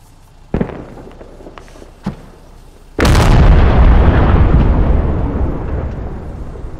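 IED explosions in the tactical shooter Squad: two sharp distant pops, then a single massive close blast that roars and rumbles on for several seconds, with no voices.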